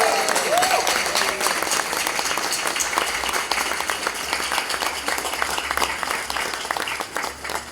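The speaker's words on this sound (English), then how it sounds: "Let's have a huge round of applause for Del Singh, please." A conference audience claps in tribute, a dense round of applause with audible individual hand claps and a brief cheer near the start, holding steady before thinning slightly at the end.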